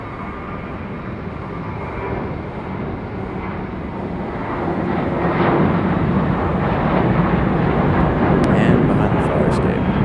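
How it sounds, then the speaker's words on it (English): An American Airlines Boeing 737 jet taxis at Raleigh-Durham International Airport, its engines a steady broad rumble that swells louder about halfway through, with faint voices underneath. "Got an American 737 taxiing out in a hurry"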